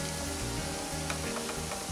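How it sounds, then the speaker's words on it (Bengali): Egg and cauliflower pakoras frying in hot oil give a steady, dense sizzle with faint crackles, continuous and close with no voices. "বাদবাকি পকোড়াগুলোকেও আমি একই রকম ভাবে ভেজে নেব"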